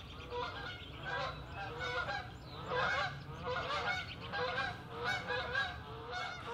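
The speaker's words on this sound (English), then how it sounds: "It's the geese that come home in the evening" A flock of geese honking as they come home in the evening, repeated bursts of overlapping calls at moderate distance with brief pauses between.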